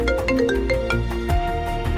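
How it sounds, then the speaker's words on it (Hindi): A mobile phone ringtone plays a bright repeating melodic pattern with a steady pulse, close and clear, in a dramatized audio story. "उसके पापा गौतम का उसे फोन आया।"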